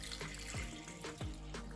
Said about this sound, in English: So you add some water.